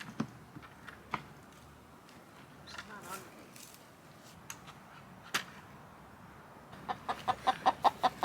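A broody hen sitting on an egg in a bin on a homestead gives scattered soft clucks and scratchy rustles, ending in a quick run of sharper rhythmic clucks close by.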